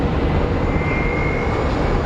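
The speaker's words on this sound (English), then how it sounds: "you can actually see this Southwest Airlines is going to taxi through here like Evel Knievel, going full speed" A Southwest Airlines jet taxis fast at Phoenix Sky Harbor airport, its engines giving a loud, steady roar with a faint high whine running through it.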